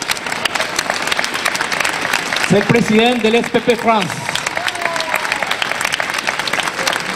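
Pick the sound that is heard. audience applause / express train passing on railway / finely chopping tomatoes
audience applause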